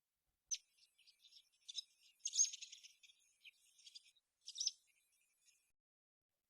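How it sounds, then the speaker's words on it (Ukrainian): A swallow twitters in quick, thin, high chirps. The bursts come in short scattered clusters separated by silence, and the whole call sounds soft and somewhat distant. "Ластівка щебече."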